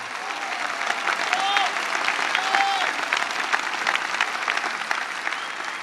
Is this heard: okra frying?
no